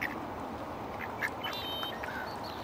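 Ducks at Minto Brown Island Park in Salem, Oregon quack in short raspy bursts while gobbling cat food, several calls scattered over steady outdoor background noise, moderately close.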